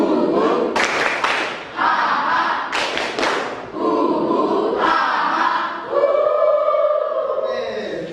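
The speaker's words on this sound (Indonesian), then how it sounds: "Yuk kita mulai dengan tepuk Indian." A classroom of pupils performs the Tepuk Indian clapping chant, with loud rhythmic bursts of group clapping and shouted chanting voices in unison, close and energetic throughout.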